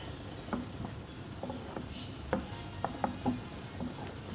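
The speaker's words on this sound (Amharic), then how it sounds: "እስከሚበስል ድረስ እናማስለዋለን።" Onions stirred in a pan while cooking for ful, with a steady low sizzle and a series of scraping utensil strokes and clicks spread across the clip, no talk.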